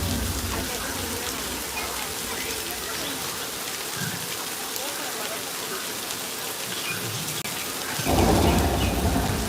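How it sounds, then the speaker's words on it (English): Steady heavy artificial rainfall from an overhead sprinkler at Universal Studios Hollywood pattering down, broadband and continuous, with a louder, denser burst of falling water near the end. "rain is created by an overhead sprinkler hidden from view"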